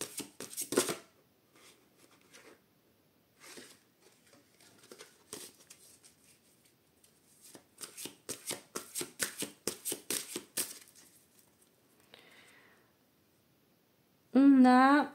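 Oracle cards are cut and shuffled in short papery riffles and flicks, sparse at first and then a dense rhythmic run, with a voice speaking quietly between the bursts.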